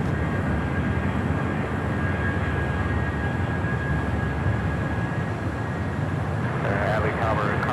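A freshly painted United Boeing 757-300 jet bound for Houston rumbles with a steady, loud engine roar at Los Angeles International Airport, its broad noise constant throughout and a faint whine above.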